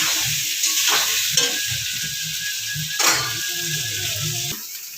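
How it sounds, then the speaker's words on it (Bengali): Young jackfruit frying in oil left over from frying prawns, with a bright sizzle broken by rhythmic scraping and clattering strokes of a spatula stirring in the pan. "এবারে চিংড়ি ভাজা তেলে আমি এঁচোড়টা একটু ভেজে নেব।"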